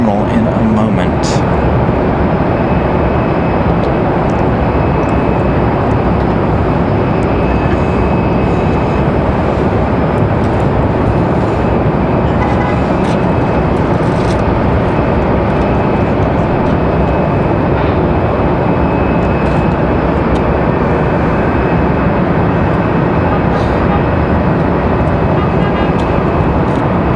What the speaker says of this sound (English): Do have that American to Philadelphia on the move over here.